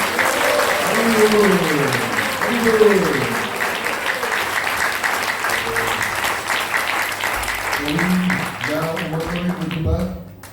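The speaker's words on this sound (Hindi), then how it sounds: "जोर से ताली बज दीजिए" Loud, sustained clapping from an audience in the ISKCON Delhi auditorium during a religious talk, dense applause running throughout with voices speaking and calling over it near the end.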